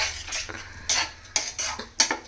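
A spoon scrapes and clinks against a pan while an egg pickle mixture is stirred, giving several sharp metallic strokes in an uneven rhythm, close and clear with faint background hum.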